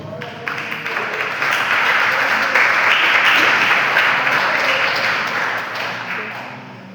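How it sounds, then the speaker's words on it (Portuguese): A church congregation claps during a Portuguese-language worship service, producing a dense, sustained wash of applause that swells toward the middle and eases slightly at the end, with a voice faintly present underneath. "Pode assentar e aplaudir ao Senhor."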